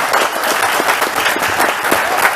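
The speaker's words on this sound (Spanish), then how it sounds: "Recibimos con un muy fuerte aplauso al señor Brad Hunter." Loud, dense applause from a conference audience welcoming a speaker, a steady wash of clapping throughout.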